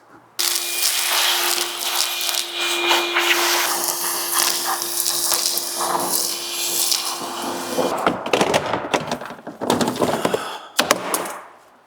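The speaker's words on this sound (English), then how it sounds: "let's vacuum out these rails" A vacuum cleaner roaring steadily as it sucks debris out of the seat rails of a car getting its first wash in 18 years, loud and close with a whining tone, then breaking into rattling, clattering suction bursts toward the end.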